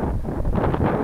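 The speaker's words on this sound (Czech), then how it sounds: "Docela to fouká, takže se omlouvám." Wind blowing across an open meadow buffets the microphone, a low, steady, rumbling gust with no other sound.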